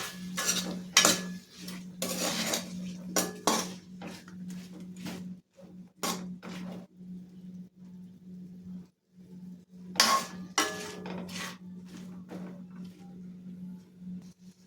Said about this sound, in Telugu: ఇవన్నీ ఒకసారి కలుపుతామండి.